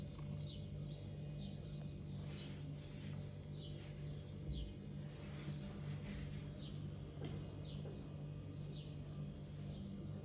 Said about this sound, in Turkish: Kuş seslerini dinliyor herhalde